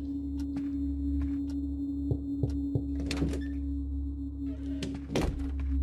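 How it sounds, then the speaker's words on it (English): Knocks on a door in the horror game Darkness Within, several separate dull thuds spread out over a low steady hum, with no speech. "Who's knocking on my door?"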